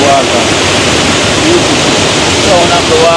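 Steady rushing of a river in a hidden gem spot in Jamaica, a loud, continuous broadband wash of flowing water filling the whole moment with no break.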